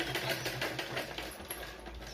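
A sewing machine stitches a blouse seam, running with a rapid, even rhythmic clatter up close for a couple of seconds without speech.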